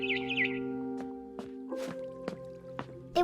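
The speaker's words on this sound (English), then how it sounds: "Then I heard chirping outside my window." Barn swallow chirps high up at the start in the video game What Remains of Edith Finch, followed by scattered soft clicks and taps over a steady electronic hum, fairly quiet overall.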